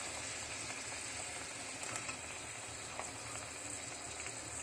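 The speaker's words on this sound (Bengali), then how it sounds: "দিয়ে দিব কুচি করা পেঁয়াজ" Chopped onion sizzling in hot oil in a pan: a steady, fairly faint frying hiss that runs unbroken, with a few small crackles and no talk.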